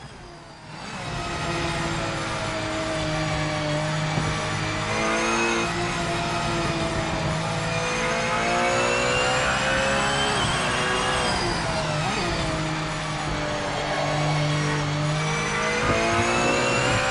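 A Porsche race car in the Project Motor Racing video game roars steadily for the whole stretch, its engine note climbing and dropping through repeated gear changes, loud and close with no voices.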